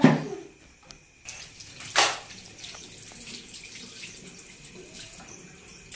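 A banana is rinsed under a running kitchen tap, giving a faint, steady stream of water with a few brief splashes and a sharper gush near the start.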